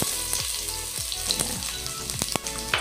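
Chopped onions fry in a pan, giving a steady, close crackling sizzle broken by several sharp scrapes and knocks of a spoon stirring against the metal.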